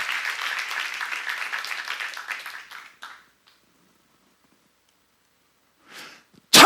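A church congregation claps together for about three seconds, a dense burst of applause that fades out, followed by near silence and a brief noise at the end.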